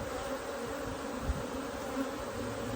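Honeybees buzz steadily at an open hive, a dense, even drone with a faint thump partway through.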